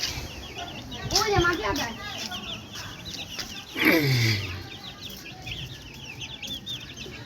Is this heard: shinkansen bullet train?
no